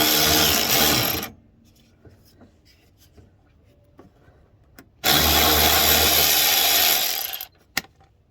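A cheap DayPlus lithium cordless ratchet wrench whirs loudly in two bursts, about a second and then two seconds long, while driving a tough bolt, with quiet gaps and a sharp click between them.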